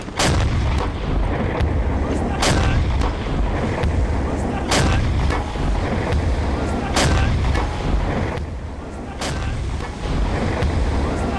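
Booming deck gun shots from a submarine in the video game Silent Hunter 5 ring out every couple of seconds over a constant roar of wind and sea, loud and close.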